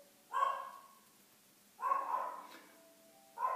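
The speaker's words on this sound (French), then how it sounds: "Mon chien aboie, mais c'est normal." A pet dog barks indoors three times in short bursts, each a little distance apart, moderately loud against a quiet background.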